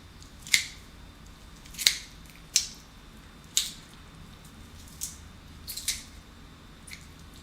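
Sharp kitchen scissor snips at close range while deboning a chicken, about six crisp cuts spaced irregularly with short pauses, against a quiet background.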